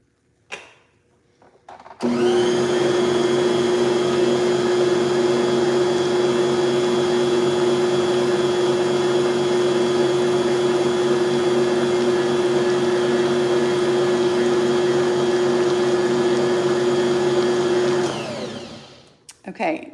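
Electric mixer whirring steadily through pumpkin bread batter, a loud, even motor drone lasting about sixteen seconds with a faint voice at the start and a quick wind-down at the end.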